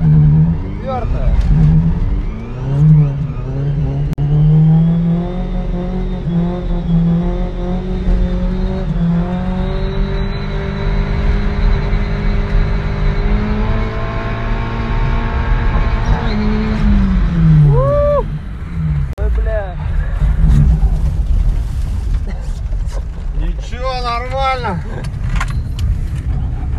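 Drift car engine revving hard at a winter drift battle, the motor rising and holding at high pitch for long stretches before dropping, loud and close, with bursts of revving and people talking nearby.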